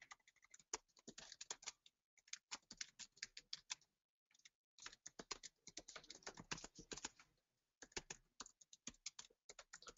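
Fingers type on a computer keyboard in quick bursts of close, crisp keystrokes, pausing briefly between runs as a username and password are entered into a web portal sign-in.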